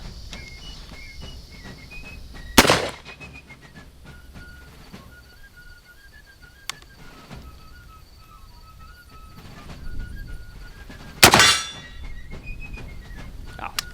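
An original Civil War Merrill carbine fired with a percussion cap: two sharp, loud bangs land about nine seconds apart, with faint chirping tones in the quiet between them.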